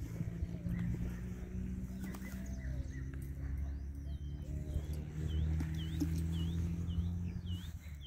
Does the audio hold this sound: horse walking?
yes